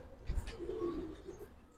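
Giribaz racer pigeons coo in a low, soft murmur, a short throaty burst near the start followed by a steady, fairly close warble, with no talking over it.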